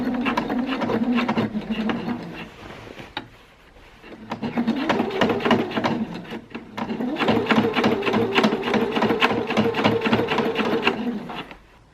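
A home sewing machine strains while stitching tightly gathered fabric for a 1920s-style dress, its motor whirring in bursts with a steady rattling needle rhythm, pausing briefly near the start before running continuously again.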